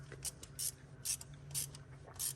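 A ratcheting torque wrench tightening injector bolts on a 7.3 Powerstroke diesel engine, five quiet evenly spaced clicking bursts close by.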